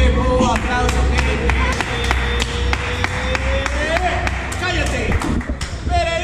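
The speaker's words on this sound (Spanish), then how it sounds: "Diego, aplauso." Audience applause at a freestyle rap battle in a market in León, Guanajuato, a burst of scattered, sharp claps with crowd noise and loud music underneath, while voices talk over it.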